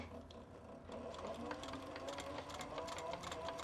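A leather sewing machine stitching across a seam runs with a fast, even mechanical chatter and buzzing hum, steady and close throughout, quiet in level with no talk.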